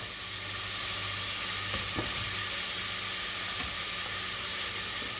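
Onions sizzle steadily in a hot pan while being stirred, a constant bright frying hiss with a few soft scraping knocks from the stirring.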